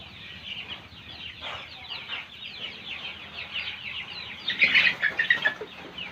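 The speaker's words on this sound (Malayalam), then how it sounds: "ആഹാ, കോഴിക്കുഞ്ഞുങ്ങളുണ്ടല്ലോ." A flock of hens and young chicks at a Kuttanad farm in Alappuzha, Kerala, cluck and peep continuously nearby, with a brief burst of louder clucking and wing flapping toward the end.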